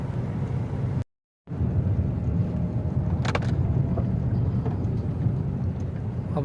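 A car climbing from a narrow low road onto the main national highway near Hyderabad, Pakistan, with a steady engine and road rumble throughout, a brief dropout near the start and faint clicks and rattles.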